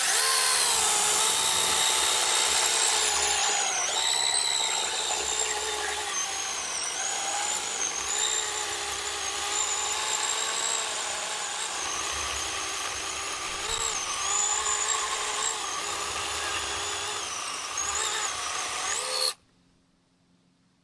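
ORBLON 6-inch brushless mini cordless chainsaw cutting through storm-fallen wood, a loud continuous buzzing whine with a wavering pitch for about nineteen seconds, then it stops abruptly.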